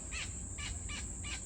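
A king parrot calls from foliage nearby, giving four short, evenly spaced high-pitched notes over a steady background hum, with no talking.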